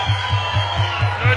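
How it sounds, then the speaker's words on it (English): A crowd roars and cheers at a Rise Muay Thai fight in a packed nightclub venue, with steady broad crowd noise and a repeating low thumping pulse beneath it. "Listen to this crowd bushing."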